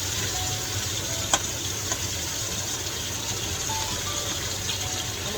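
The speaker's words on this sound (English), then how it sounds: "I'm going to put a lid on this one and let it sit here and simmer." Beef tips simmer in a pan, giving a steady, moderately loud bubbling hiss close by, with a couple of faint clicks near the start.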